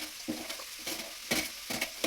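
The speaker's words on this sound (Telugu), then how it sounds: "బాగా కాసేపు నూనెలోనే బాగా వేయించుకుంటాం." Beans, broad beans and radish frying and being stirred in hot oil for sambar in a home kitchen: a soft continuous sizzle broken by repeated scraping stirs at a steady rhythm, close and fairly quiet.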